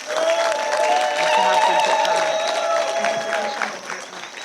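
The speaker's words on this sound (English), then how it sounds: "please join me in thanking them with the loudest round of applause." Audience applause at a festival closing keynote on reparations, a dense steady clapping from a crowd that carries on for several seconds and tapers off near the end, with some voices mixed in.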